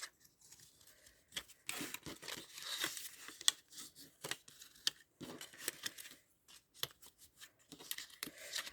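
Scissors snip paper for a perpetual calendar box in a series of short, close, crisp cuts and rustles, irregular in rhythm and fairly faint, with quiet pauses between bursts.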